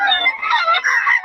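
A rooster crowing, one loud, close, drawn-out crow that wavers in pitch and runs the full length without a break.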